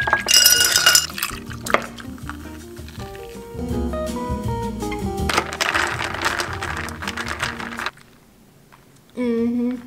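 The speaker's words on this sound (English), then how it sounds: "Cue the aesthetic matcha pours." Matcha drink poured over ice in a glass, with clinking ice, liquid splashes and glassy knocks in a busy run, then a brief quiet gap before a final clink.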